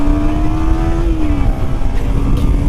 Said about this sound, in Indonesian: kita coba torsi motor ini ya